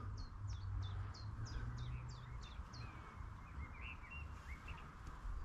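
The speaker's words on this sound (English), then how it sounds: "But it's nice listening to all the birds out here." Small birds chirping outdoors by the reeds of Harrestrup Mose wetland in Ballerup, a quick series of repeated high chirps followed by scattered calls, faint over low wind rumble.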